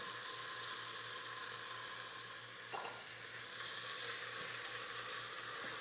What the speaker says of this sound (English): Now we want that sizzle.